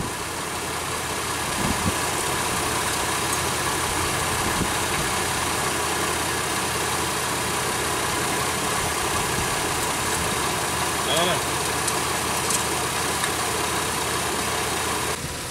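A car engine idles steadily with a slight misfire, a continuous close-up running drone with faint irregular stumbles and no voices.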